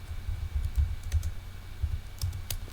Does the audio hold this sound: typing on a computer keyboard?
yes